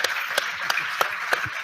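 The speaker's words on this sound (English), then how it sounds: "A big round of applause for my panelists, please" Audience at a panel discussion applauds the panelists, a thin, scattered patter of claps with a few louder individual hand claps landing at regular intervals.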